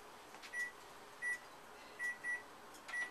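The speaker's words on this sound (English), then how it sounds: "and we'll set our timer." Kitchen timer being set for steaming zucchini, five short electronic beeps at uneven intervals, quiet and close in an otherwise still kitchen.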